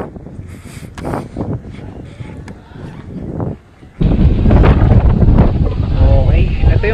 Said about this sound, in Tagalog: ang lamig lang sobra ng hangin.